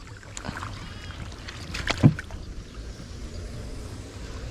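A paddle dips into water beside a small rowing boat on a flooded paddy field, giving one distinct splash and knock amid soft lapping and light wind noise.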